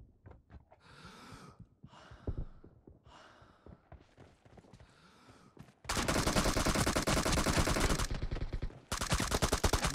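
Rapid automatic gunfire crackles in a video game team deathmatch, loud, dense bursts of shots that start after a few quieter, scattered pops and breaths, with one short pause before the firing resumes.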